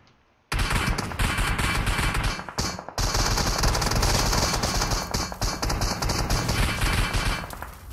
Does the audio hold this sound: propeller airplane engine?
no